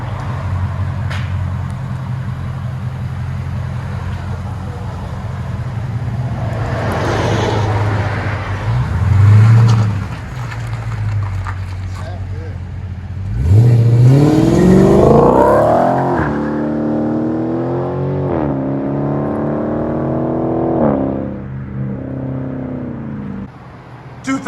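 A 2016 Dodge Charger Scat Pack with a 6.4L engine and a loud aftermarket exhaust, heard idling with a deep rumble, then revved hard twice with sharp, roaring rises and falls before settling back to idle.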